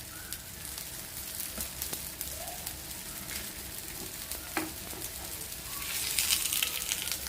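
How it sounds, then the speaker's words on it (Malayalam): Rava and banana batter snack frying in oil over a medium-high flame, a steady soft sizzle with faint scrapes as the pieces are turned, brightening toward the end. "നമുക്കിതൊന്ന് മീഡിയം ടു ഹൈ ഫ്ലെയിമിലിട്ട് തിരിച്ചും മറിച്ചും ഇട്ടൊന്ന് വേവിച്ചെടുക്കാം."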